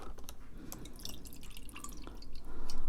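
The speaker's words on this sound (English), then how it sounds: "I will take some of the excess water and put it in the cup here." Excess water draining from a fast-draining potting mix drips into a cup, a quick irregular patter of close drops, the flow thickening into a steadier trickle toward the end.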